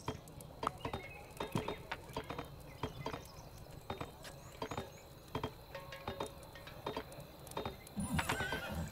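Horse in the Kingdom: Two Crowns game, a steady run of hoof clip-clops with whinnies and small chinking sounds, moderately loud and alone without talk.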